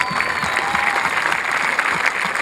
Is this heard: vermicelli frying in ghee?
no